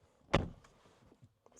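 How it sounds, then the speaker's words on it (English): The driver's door of a 2023 BMW M3 Competition (G80) shuts with a single solid, close-up thud, followed by faint interior clicks and rustles. "Close the door"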